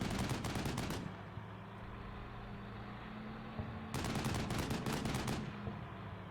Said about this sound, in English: Please keep those guns firing